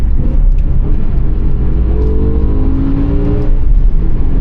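A stock naturally aspirated BMW M5 V10 engine revs hard, its pitch climbing and falling through steady high-rpm bursts, close and continuous with no voices.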